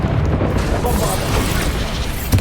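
Bombarda blasting spell in Hogwarts Legacy going off amid a busy magical duel, a booming burst with rumbling combat noise and a sharp crack near the end.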